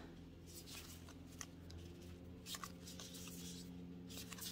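Tarot-style cards with bright green edges are handled and shuffled at close range, giving a steady soft papery rustle with a few crisp flicks and light taps, over a low background hum.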